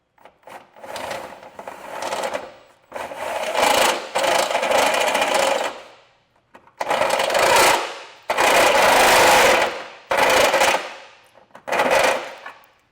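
A hole in the frame of a 2025 Subaru Forester is being enlarged with a tool for a Curt Class II trailer hitch. About seven loud, harsh rasping bursts sound up close, separated by short pauses.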